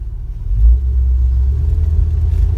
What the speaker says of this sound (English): Got a nice idle to it. It's a good running truck.